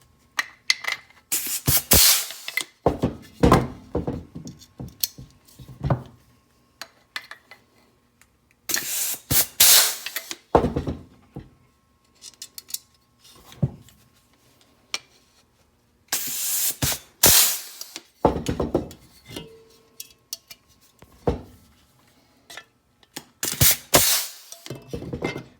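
Rivets being set with a pneumatic rivet squeezer, sharp bursts of air hiss and squeeze in irregular clusters with short quiet gaps between them, close and fairly loud.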